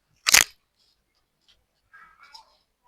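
Scissors cut through fabric for a cowl neck top: one sharp, loud crunching snip, then quiet, then a few faint, soft snips.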